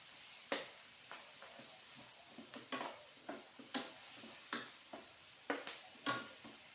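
Spice paste for egg balado sizzles quietly in hot oil while a spatula scrapes and stirs the pan in irregular strokes, soft and close, with no voices.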